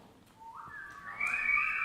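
Whistling from people at an intergenerational church service: a rising whistled tone that climbs and holds, joined by more whistlers toward the end, fairly faint and brief with no talk over it.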